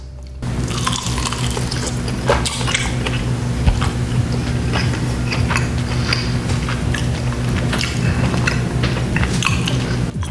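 Someone bites and chews sinigang hot wings coated in a spicy, buttery sauce, close wet crunches and smacking chews scattered through the clip over a steady low background hum.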